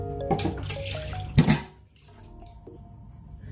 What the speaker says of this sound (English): So now I will mix the rest of 200 ml water.